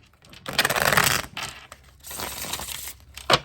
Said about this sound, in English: So I'm gonna go ahead and get a shuffle.